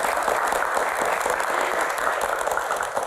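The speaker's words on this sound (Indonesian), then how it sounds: "Tepuk tangan buat teman-teman semuanya." University students in a television studio audience applaud during a talk show, steady close clapping from a small crowd with no voices over it.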